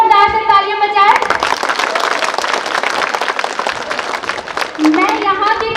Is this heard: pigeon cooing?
no